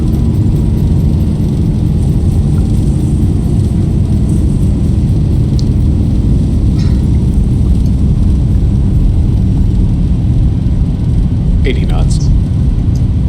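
Thrust reversers roar on landing in a Zibo 737 flight simulator, a loud, dense, unbroken wash of engine noise that holds steady throughout with no talk.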